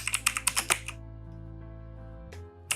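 Quick keystrokes on a computer keyboard rattle in a rapid burst for about a second, then stop, with two more isolated clicks after a pause against a quiet hum.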